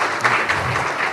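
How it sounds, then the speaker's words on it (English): An audience at a morning panel discussion applauds the speakers, a brief, dense wash of many hands clapping at a steady, fairly loud level. "why don't you give a round of applause for all the speakers"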